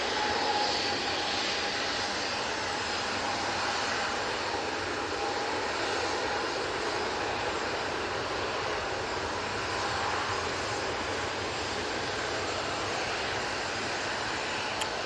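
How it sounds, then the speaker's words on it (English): An Airbus A321 CEO jet rolls for takeoff at Manchester Airport, its engines giving a steady, loud, broadband roar that holds for the whole stretch with no talk. "A321 CEO on the roll. It's off to Barcelona."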